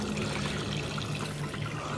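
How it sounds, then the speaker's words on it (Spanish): Water pours steadily from an opening, a constant close rushing trickle with a low hum underneath, heard alone in a strange setting. "Sale agua de aquí."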